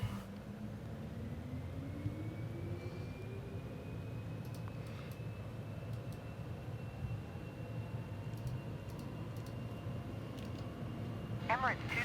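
A light cargo plane takes off in a flight simulator, its steady engine drone and rising turbine whine running through the whole clip. It stays at moderate level, with a voice talking over it.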